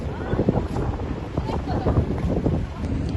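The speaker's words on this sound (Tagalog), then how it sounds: "sobrang hangin. Kukunin na kami ng hangin." Strong gusts batter the microphone on a parking lot rooftop, producing a steady low roar with buffeting surges throughout, while voices chatter underneath.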